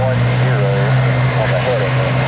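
Airliner taxiing at Tampa airport, a loud steady engine drone with a strong low hum and shifting whine, heard close and continuous, with people talking over it.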